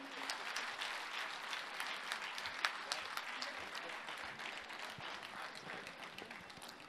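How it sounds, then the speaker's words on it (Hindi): An audience at a Hindi comedy poetry stage show claps in loud, dense, sustained applause that fills the whole stretch without a break. "जोरदार तालियां।"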